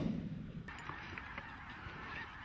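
Snow geese honking during a goose hunt, a few faint calls carrying from a distance over steady outdoor background noise, with no talking.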